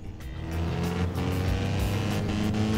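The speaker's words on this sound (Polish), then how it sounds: "Tak, silnik przerywa podczas jazdy." A damaged Golf MK2 GTI in Forza Horizon 4 drives with its engine running rough and misfiring, a steady close engine drone with uneven stutters.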